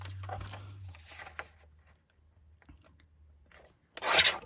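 Scissors or a blade cut paper into 3-inch squares for teabag folding, giving a single loud, crisp crunching cut near the end after quieter faint rustling and handling.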